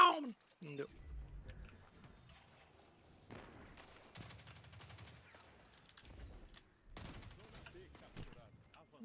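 Bursts of rapid gunfire in Destiny 2's Crucible mode, several sharp volleys separated by pauses, with a voice talking between them.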